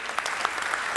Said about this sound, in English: Welcome them with a short applause.